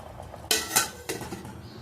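A spoon stirs gongura dal seasoned with chili powder and salt in a metal cooking pot, giving a few sharp, close metallic clanks and scrapes against a quiet kitchen background.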